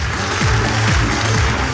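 An audience at a stand-up comedy show applauds, a brief, dense patter of many hands clapping at close range, steady and unbroken for under two seconds.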